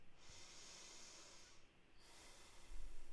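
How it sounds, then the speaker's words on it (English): Deep breaths drawn in and out through the nose during a guided breathwork and meditation session, slow hissing airflow with a soft snort near the end, close and fairly quiet with no talking. "Take some deeper breaths in and out through the nose"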